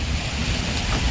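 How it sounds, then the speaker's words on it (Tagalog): Strong wind in an outdoor garden buffets the microphone with a loud, continuous low roar and rushing hiss, with no pauses. "Pero sobrang lakas ng hangin talaga."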